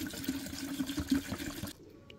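Aerosol insecticide liquid pours into a 2-litre plastic bottle of an MS5000 mini fogger mosquito machine, a steady close splashing trickle for nearly two seconds before stopping abruptly into near quiet.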